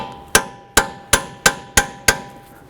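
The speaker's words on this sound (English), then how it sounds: "We're going to use a chisel here and get right on the outsides of the ears, and we're going to hit this." Hammer strikes a chisel against a wheel bearing ring on a 2006–2011 Honda Civic, six sharp metallic clangs at a steady pace, loud and close with short ringing decays and no talk.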